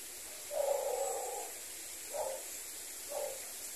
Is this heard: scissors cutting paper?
no